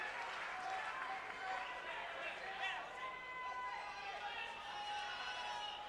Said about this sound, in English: Good combination by Ribalta, even that being cheered a little bit by the crowd now